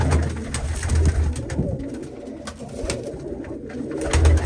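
Pigeons coo repeatedly in a loft where males are being bred together, a steady layered cooing close by with soft rustling underneath and no talk.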